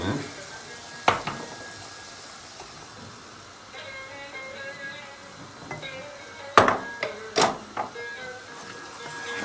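Red pepper flakes and a little tomato paste being stirred in a pan, a faint sizzle under a few sharp utensil knocks and clinks against the metal, clustered near the end.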